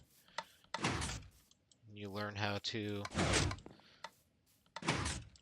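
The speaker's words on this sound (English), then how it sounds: "maybe you want to make that piston door just a little bit bigger" Minecraft redstone sticky piston door moving: a run of rapid mechanical thunks and clacks in the middle, with someone talking before and after.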